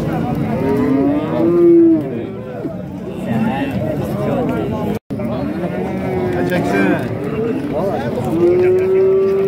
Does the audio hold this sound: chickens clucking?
no